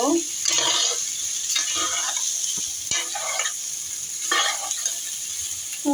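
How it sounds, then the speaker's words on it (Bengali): Pasta frying slowly in a pan gives a steady hiss, broken by several louder bursts of stirring and scraping at irregular intervals, close by with no talking. "পাস্তাগুলোকে আমি দিয়ে দিলাম এখন আমি আস্তে আস্তে একটু ভেজে নিব"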